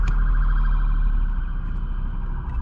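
A police car siren wails steadily in the distance under a dull, rumbling background, faint and continuous throughout.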